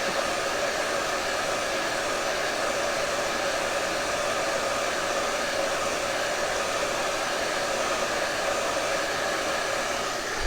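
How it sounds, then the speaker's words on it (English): A handheld hair dryer set on its cool setting runs steadily with a loud, continuous whooshing hum, close up and with no voices. "blow dryer."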